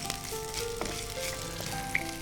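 Spices and chopped onion sizzle and crackle steadily in hot oil in a pan while a pepper curry is made, with small pops and faint stirring scrapes throughout, close and continuous.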